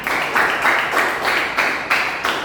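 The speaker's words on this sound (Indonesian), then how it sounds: "Tepuk tangan, tepuk tangan." A seventh-grade Indonesian language class claps together in short, rhythmic bursts of applause, each burst rising and falling about three times a second, with no voices over it.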